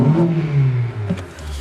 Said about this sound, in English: I'm gonna rev the engine real quick.